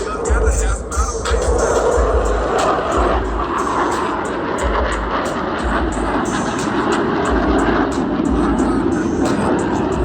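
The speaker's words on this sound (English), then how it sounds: "observe as both pilots sustain 6 times the force of gravity to cross their aircraft over show center" US Navy Blue Angels jets roar over a beach airshow, loud and sustained with rising and falling rushes as the aircraft pass overhead, while a crowd murmurs beneath.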